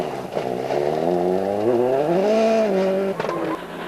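A Ford Focus rally car at the Galway International Rally 2004 blasts along a cold, slippery stage, its engine climbing and falling through close, loud revs for several seconds, with a sharp pop and a brief dip near the end.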